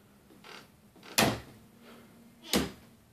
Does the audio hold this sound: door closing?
yes